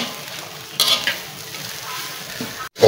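Food sizzles loudly in a hot pan while being stirred, with close scraping bursts over a steady frying hiss, then a brief drop to silence and a sharp resumption.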